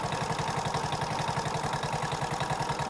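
A four-stroke scooter engine idles steadily during carburetor adjustment, its rapid, even putter close and loud, with a light mechanical clatter on top and no talk.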